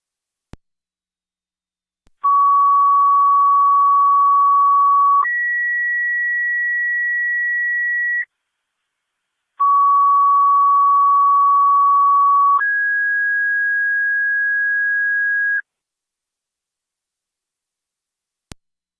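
Fire dispatch paging tones alerting engine 7: two pairs of steady electronic tones, each a lower pitch held about three seconds then a higher one, loud and clean with a short silent gap between pairs and no talk.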